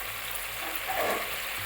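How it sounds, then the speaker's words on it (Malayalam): Water heating to a boil in a pot for Thrissur-style ghee rice, with yogurt and salt added, giving a faint continuous bubbling hiss without talk. "നല്ല ചൂടായി വരുന്നു. നന്നായിട്ട് തിളച്ച് വരുന്നു."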